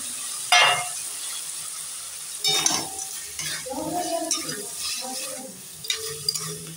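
Bori, sun-dried lentil dumplings, drop into hot mustard oil in a pan for dry shukto and are stirred, giving a steady sizzle with scraping spoon strokes and a few sharper clatters, close and fairly loud.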